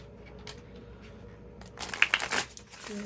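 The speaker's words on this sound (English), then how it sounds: "But first, let me shuffle." Tarot cards being shuffled by hand, a brief burst of crisp riffling and papery flutter rising after a quiet start, with a faint low hum underneath.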